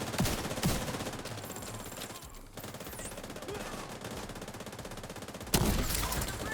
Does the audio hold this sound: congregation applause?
no